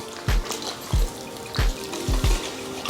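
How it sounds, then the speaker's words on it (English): Water poured onto a freshly repotted houseplant, heard as about five short splashing bursts of liquid close by, spaced irregularly with quiet trickling between them. "Water the plant."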